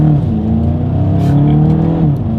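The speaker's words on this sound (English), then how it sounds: "Let's go ahead and put these paddle shifters to the test and see how quickly they react for us here." A 2021 Volkswagen Golf GTI accelerates hard with quick paddle-shifter gear changes, its engine note loud and close, climbing in pitch with brief steps as gears shift over about two seconds.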